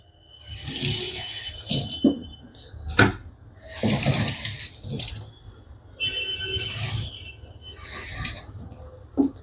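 Municipal tap water splashes in repeated bursts, hissing and gurgling as it fills a bottle, starting and stopping several times at close range.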